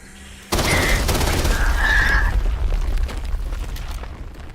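Gunfire in the video game Black Ops 7: an abrupt loud burst of shots and booming impacts starts after a brief pause, then rolls on as dense, continuous battle noise.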